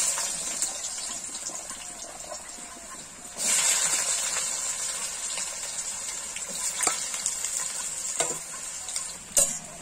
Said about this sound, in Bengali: আমরা এবার আলুটা ভেজে নেব।